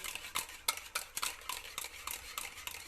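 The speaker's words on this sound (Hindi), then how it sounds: "और ये हमारी मलाई है, इसे हम 5 से 6 मिनट अच्छे से फेंट लेंगे" Cream (malai) being whisked for strawberry ice cream makes a steady rhythm of quick, close scraping and tapping strokes against a bowl, about three or four per second, with no voices.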